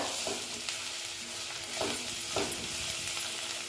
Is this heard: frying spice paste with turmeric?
yes